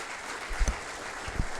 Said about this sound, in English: please make a roaring round of applause for the one and only Dr.